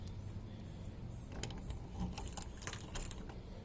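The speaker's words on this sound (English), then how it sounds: "Grab the keys, make sure this is set right." Keys jangling and clinking in irregular bursts while cam locks on a storage bay are set, fairly faint and close, over a low background hum.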